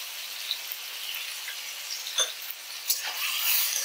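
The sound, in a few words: carrots frying in a pan for fried rice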